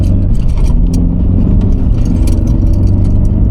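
A slow Mercedes-Benz car engine drones loud and close after a downshift, a steady revving hum filling the cabin with no talk.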